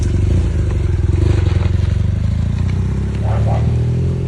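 A motorcycle, freshly repaired at a shop, rumbles at close range with a steady low engine throb and some clattering as it pulls away.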